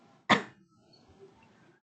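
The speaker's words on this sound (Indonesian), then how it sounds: "mohon maaf nih batuk ya Allah" A single short, sharp cough sounds close up, followed by quiet room tone and faint rustling.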